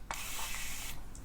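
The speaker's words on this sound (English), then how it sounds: "It's like this lightweight misty spray" Lightweight facial mist sprayed in one long continuous burst, a steady close hiss that runs for about a second before stopping, followed by a brief softer hiss.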